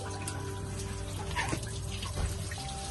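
Water runs steadily through the intake hose of a Volvo Penta inboard marine engine being flushed after running aground, a continuous rushing trickle with a faint hum underneath and no speech.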